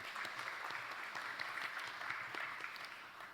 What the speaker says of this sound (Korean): 네, 여러분 큰 박수로 맞아주시기 바랍니다.